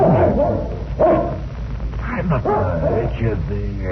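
Dog barks and whimpers used as a sound effect in an old-time radio mystery drama come in short bursts close by, mixed with someone speaking over them.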